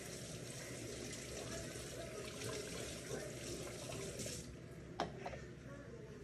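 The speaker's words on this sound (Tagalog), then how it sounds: "Hugasan na natin yung ginamit natin." Water runs steadily from a kitchen tap as used utensils are rinsed, a continuous close splashing rush with a faint clink near the end.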